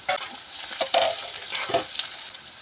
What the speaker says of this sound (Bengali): পেঁয়াজ রসুন আর কাঁচা লঙ্কাটা আমি ভেজে নেব